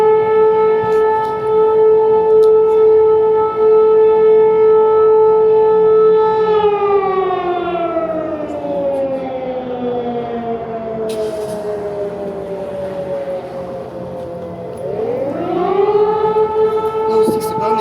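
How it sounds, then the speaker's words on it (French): A civil defense air raid siren wails in Ukraine near the border, loud and sustained, holding a steady pitch before sliding down and then rising again in a long, mournful cycle. "on vient d'entendre la première sirène."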